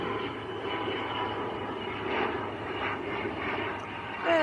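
An Aer Lingus airliner arriving from Belfast at Manchester Airport makes a steady broad engine roar with a faint whine, heard from a moderate distance and rising slightly at the end, with no talking.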